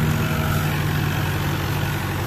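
A tractor engine runs with a steady, loud, low drone while pulling a Krone Swadro TC 640 rake across an alfalfa field.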